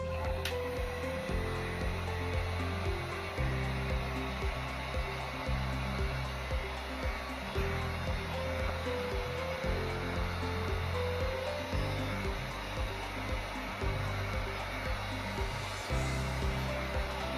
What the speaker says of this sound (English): And so I'm just going to take this heat gun